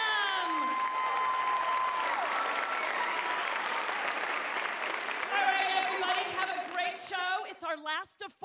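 An audience at a year-end dance performance applauds graduating dancers with sustained, dense clapping and scattered cheers, while voices carry over the crowd toward the end.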